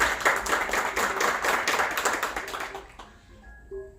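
A small audience at a gastronomy and culture reading circle claps warmly for about three seconds, the applause close and lively before fading into a quiet room.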